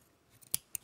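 Two quick snips of scissors cutting through trouser fabric near a seam, crisp and close in an otherwise quiet room.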